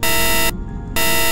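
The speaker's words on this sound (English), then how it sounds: "Give us a reading on the 1202 program alarm" A loud, steady electronic buzzing tone of an Apollo 11 spacecraft computer 1202 program alarm sounds, drops out for about half a second, then resumes at full strength.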